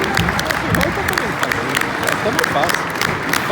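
Audience applause at a motorcycle show for a young rider, loud and continuous clapping blended with crowd chatter and voices talking underneath.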